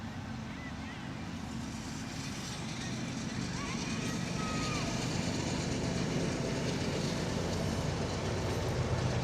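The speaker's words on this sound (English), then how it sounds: "Got a little train coming by." A train rolls past near an outdoor high school soccer match, a steady broad low rumble of rail cars holding level throughout, with a commentator's voice talking over it.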